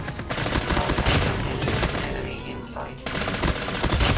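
Rapid bursts of M13 rifle fire in Call of Duty Mobile crackle loudly and close, in sustained fast volleys with a brief drop in the middle before firing resumes.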